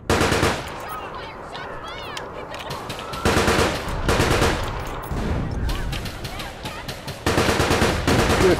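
Gunfire in the online shooter APB: Reloaded, repeated bursts of rapid shots and single cracks across the clip, loud and close, with a voice talking briefly.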